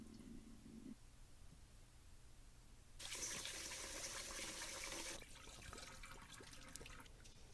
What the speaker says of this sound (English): I need to wash that rice.